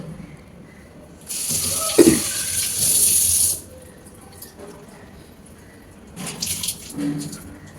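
Running tap water pours over hands being washed at a sink in two bursts, a loud hissing stream for about two seconds and a shorter one near the end, with faint talk in between.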